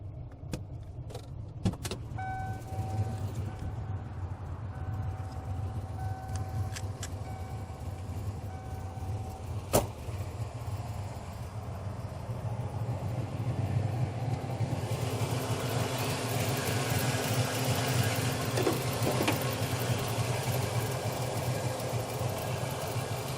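A restored car engine idles with a steady, low rumble, punctuated by a few sharp clicks and knocks, and grows slightly louder and fuller in the second half.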